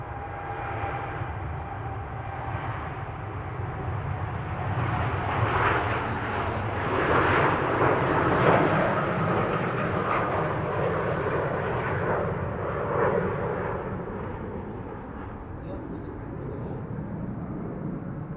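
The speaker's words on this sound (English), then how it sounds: "This is TUI flight 365 to Curaçao Willemstad" A TUI Boeing 787 Dreamliner takes off from Amsterdam Schiphol bound for Curaçao, its engine roar swelling close and loud toward the middle with crackling rumble before easing off, with no voices.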